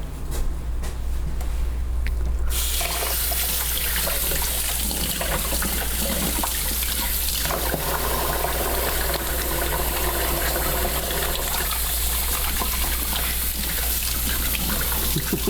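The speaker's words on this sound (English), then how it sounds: "I'm gonna wash my hands" Tap water runs steadily while hands are washed in a home kitchen, a continuous close splashing stream that begins after a short quieter moment and carries on to the end with no talking.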